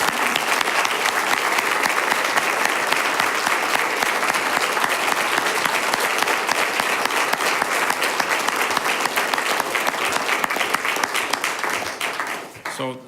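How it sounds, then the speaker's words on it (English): A city council meeting audience gives a long round of applause for the police department, dense sustained clapping from a crowd in a hall, steady and loud before tapering off near the end. "Let's please join me in giving everyone here a round of applause."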